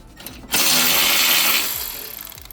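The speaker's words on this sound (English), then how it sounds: "we're going to take off these two 10mm bolts right there" A ratchet spins off 10mm bolts on a 2010 Mercedes ML350 4MATIC during a radiator replacement, giving a loud, close, continuous burst of clicking that runs about two seconds and fades slightly at the end.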